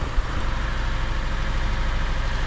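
A ZAZ 1102 Tavria carburetor engine idles steadily after starting, a close, continuous low rumble with an even mechanical throb and no voices over it.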